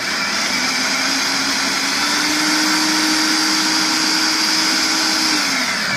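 A blender runs steadily, whirring loud and close as it mixes finely pulverized nuts into dry chocolate chip cookie ingredients, its motor tone holding even before winding down near the end.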